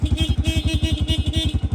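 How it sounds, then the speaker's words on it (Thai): A Suzuki SW1 engine runs steadily nearby with a fast, even, throbbing pulse and a low rumble, with no talking. "จะมาฟังเสียงเครื่องยนต์ครับ"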